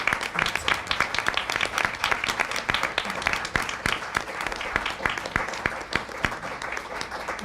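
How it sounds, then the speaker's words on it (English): Audience applause at a psychotherapy conference panel thanking the Jordan family, a crowd clapping steadily with sharp individual claps standing out near and far, sustained throughout. "we have 3 rounds of applause to do as we close"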